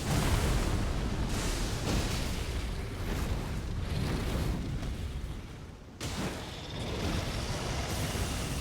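Loud, continuous rumbling blasts from the boss Bayle's delayed ground explosion attack in the video game Elden Ring, a dense booming wash with a brief dip and renewed surge near the end.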